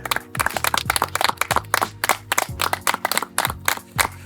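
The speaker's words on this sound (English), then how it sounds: "a round of applause for yourselves for making it to the top 9." A small group claps on a televised singing competition elimination day, uneven and close, with loud irregular hand claps bursting in clusters over a tonal musical background.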